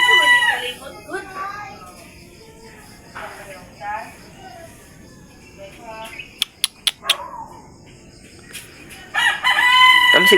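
A rooster crows loudly and clearly at the end, after a stretch of people talking nearby with a few sharp clicks.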